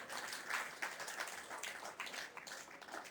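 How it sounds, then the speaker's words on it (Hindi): A large audience claps together at a religious discourse, a dense, steady wash of applause lasting the whole moment with no talking over it. "अच्छा ताली बजाओ तो सारे बजाना"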